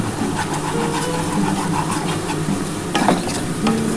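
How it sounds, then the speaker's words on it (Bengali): Spice paste for Bengali prawn malai curry stirred and fried in a pan, with steady sizzling under repeated scraping strokes of a spoon, close and fairly loud with no talking. "এবার ভালো করে মশলাটা কষাতে হবে"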